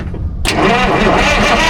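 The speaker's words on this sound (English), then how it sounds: "Let's see if this baby cranks over." A truck's diesel engine cranks over after a short quiet start, a loud, steady churning rumble that runs continuously and close by without catching.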